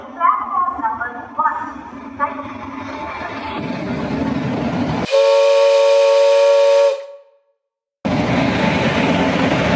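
A steam-style train whistle blows loudly and steadily for about two seconds, then cuts off, after earlier rumbling station noise and voices at Rajahmundry station as the Simhadri Express arrives; loud rail noise resumes after a brief silence.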